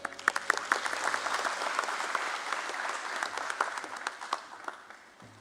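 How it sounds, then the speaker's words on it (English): A seated audience at the NSDL listing ceremony at BSE claps in a steady, moderately quiet burst of applause that gradually thins out over several seconds. "A big round of applause for him."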